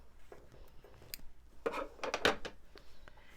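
Scissors trim a pieced quilt fabric unit, giving a few quiet close snips and rustles of cloth, with a brief cluster of sharper cuts in the middle; faint and alone.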